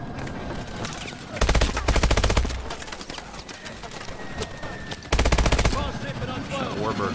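Warbird aircraft opening fire in Call of Duty: Advanced Warfare, two loud sustained bursts of rapid automatic gunfire over a constant rumbling battle background on a hangar deck.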